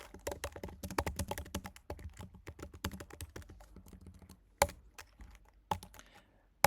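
Typing HTML on a computer keyboard, a quick run of close key clicks that thins out into a few scattered taps and isolated louder keystrokes after a brief pause.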